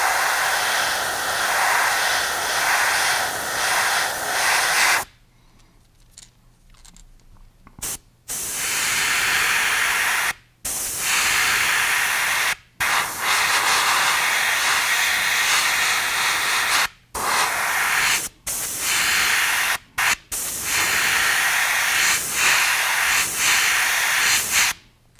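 An airbrush sprays paint onto a brown trout fishing lure, yellow going on around the gill plates, in a steady close hiss broken by short on-off bursts and brief pauses.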